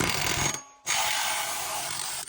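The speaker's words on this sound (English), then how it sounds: "I like to use an air hammer with a pointed tip." A pneumatic air hammer with a pointed tip drives an axle out of a 2010 Mercedes E550 rear wheel bearing assembly, a loud, dense, rapid hammering buzz that cuts out briefly, then resumes steadily up close.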